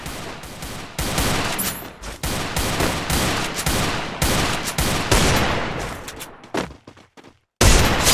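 Dense bursts of rapid gunfire crackle nonstop through a shooter video game's firefight, loud and close, with short gaps before a brief silence and a final burst.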